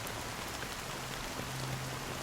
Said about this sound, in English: Has this rain been ongoing?